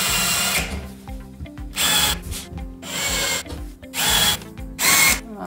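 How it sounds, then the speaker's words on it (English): A power drill whirs in several short bursts, pre-drilling holes in cement board, revving up and winding down between holes, close and loud. "Pre-drilling some holes."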